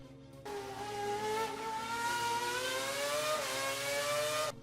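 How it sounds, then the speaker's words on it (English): A simulated Formula 1 race car engine holds a high, steady whine across about four seconds, with its pitch drifting gently up and down, fairly loud and with no talk over it. "like the sound of an F1 car?"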